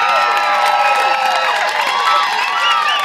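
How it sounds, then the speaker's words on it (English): A crowd cheers and shouts loudly and steadily at a basketball caravan event, with whoops and high-pitched voices over scattered applause, nearby and continuous. "You can get a round of applause for that."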